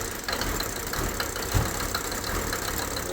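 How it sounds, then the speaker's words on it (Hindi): A Mercedes W124 diesel engine idles just after its first start following a refit, making a steady, close-up rough clatter of diesel knocking with a brief louder thump partway through. "ये knocking sound is genuine from Mercedes जो डीजल इंजन में आती है"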